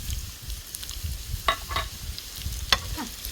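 Homemade erişte egg noodles toasting in oil in a pan, stirred with a few short scraping strokes over a soft, steady sizzle, close and fairly quiet.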